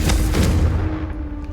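A Confringo fire spell goes off in Hogwarts Legacy, a single heavy booming blast with a deep rumble that fades over about a second.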